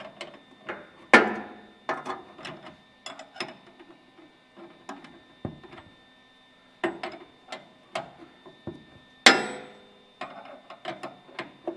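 A ratchet tightening a cab mount nut on a C50 truck: short bursts of clicking and metallic taps come in irregular groups, with a few louder clanks among them, close and clear, with no talk.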